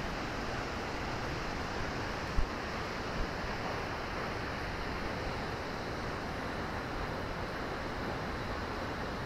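Steady roar of a waterfall near Crater Lake National Park, Oregon, a dense broadband rush that holds constant and loud throughout with no other sounds over it.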